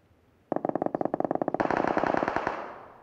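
Automatic gunfire in PUBG on the Livik map, rapid bursts of loud, close shots that build into dense continuous fire before cutting off, leaving a short fading tail.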